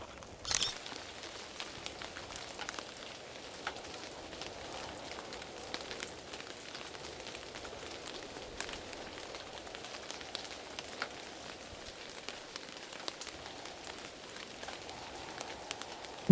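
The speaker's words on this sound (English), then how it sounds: "and here comes the rain." Rain beginning to fall outdoors in a moody landscape, a faint, steady patter of drops across a soft hiss, quiet and even throughout with an occasional sharper tick.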